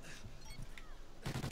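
Gunshots from a first-person shooter game: a quick burst of rapid close shots at the end, preceded by quieter game ambience.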